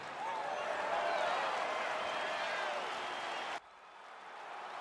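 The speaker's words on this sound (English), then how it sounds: "crowd getting excited as this fight gets underway" Video-game arena crowd in UFC 4 roars and cheers steadily at a fight's opening, a dense, loud wash of noise that cuts off sharply near the end, then a quieter crowd bed resumes.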